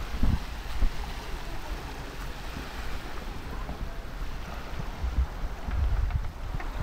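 Sea waves wash along the shore near the Argao plaza, close to the seaport. A steady, wind-buffeted surf rush rises and falls, with occasional low gusts thumping the microphone.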